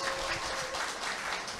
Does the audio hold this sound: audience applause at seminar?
yes